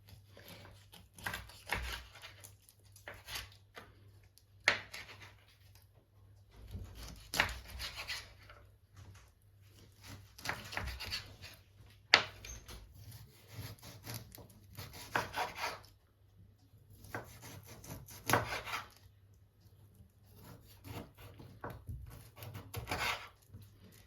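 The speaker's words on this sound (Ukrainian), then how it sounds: "І тепер її нарізаємо на шматочки." A knife slices salted mackerel into pieces on a board. Close, rasping strokes come in rhythmic bursts separated by short pauses, with no talking.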